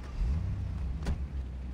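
A car in the video game Saints Row, a low engine rumble with a brief whoosh as it moves, continuous and close for a moment.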